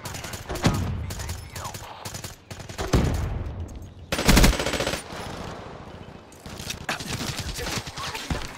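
Rapid automatic gunfire from a Black Ops 3 Search and Destroy match with a VMP and PPSh, with loud sustained bursts separated by brief pauses and a sharp blast near the middle.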